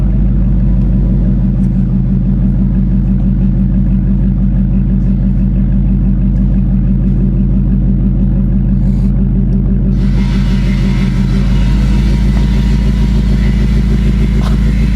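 A 2024 Shelby Super Snake with its resonator deleted rumbles with a deep, steady exhaust drone, loud and close from inside the car. Near the end a brighter, harsher edge rises over the low throb.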